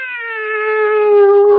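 A black cat in a radio drama gives a single drawn-out meow, loud and close, gliding slowly downward in pitch and ending in a rougher burst.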